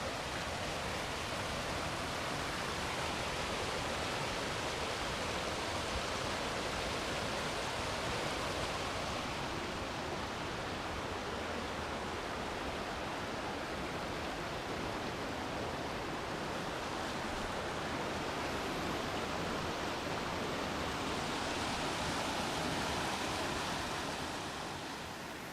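Steady rushing flow of water below a campsite, a broad continuous wash of stream noise that stays even and fairly loud throughout, with no voices.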